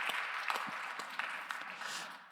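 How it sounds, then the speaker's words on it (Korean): A congregation claps together during a Sunday young adults' church worship service, a faint, steady patter of many hands with a few sharper claps standing out. "박수로 서로의 삶을 응원하며 축복합니다"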